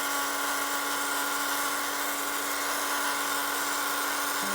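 A small electric heat tool or dryer drying patina on a craft project, giving a continuous steady whirring hum with a fixed tone, close and uninterrupted throughout.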